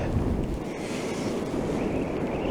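Wind blowing hard at the seashore while fishing, a steady loud rushing roar buffeting the microphone with a low rumble underneath, continuous throughout and without talking.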